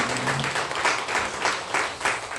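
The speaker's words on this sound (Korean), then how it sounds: "우리 박수로 한번 해주겠습니다." A church congregation at a Sunday service claps together in a loud burst of many hands, with a faint pulsing rhythm running through the brief, dense applause.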